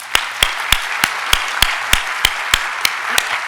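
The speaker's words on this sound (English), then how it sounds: "Please join me in thanking Morgan and Emily with a round of applause." A single person claps slowly and evenly, about a dozen sharp, close claps spaced roughly a third of a second apart, thanking two performers at a foundation's community meeting.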